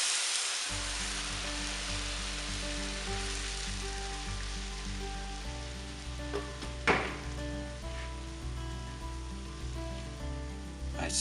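Tomato and water liquid poured into a frying pan gives a steady, fairly loud sizzle and hiss with a bubbling texture, holding constant throughout with a brief louder splash or stir near the middle.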